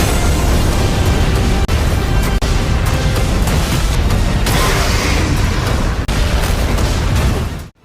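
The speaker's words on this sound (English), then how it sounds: "the two giant boulders collided, creating a devastating impact that instantly blew both rocks to pieces in a massive explosion" A massive explosion as two giant boulders collide in an animated fight, a loud, dense, sustained roar of rumbling blasts and crackling debris that fills the whole stretch before cutting off abruptly.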